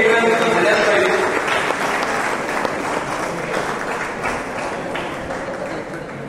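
Sustained applause from the audience at a teachers' award ceremony in Paithan, loud at first and slowly thinning out, with a voice speaking over it.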